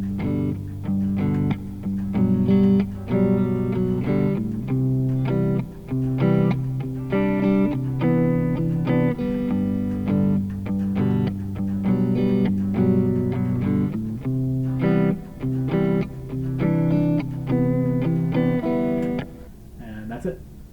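An acoustic guitar plays the verse of a song as steady chord strums with ringing open strings, holding a constant moderate loudness throughout before trailing off at the end.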